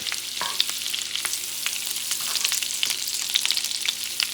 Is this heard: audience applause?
no